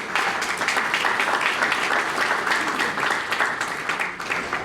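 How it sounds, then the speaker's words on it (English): An audience at a mayoral candidates' meeting in the City of Canning breaks into steady applause, a dense, even patter of many hands clapping indoors that carries on for several seconds before easing slightly. "I think he's worth a round of applause"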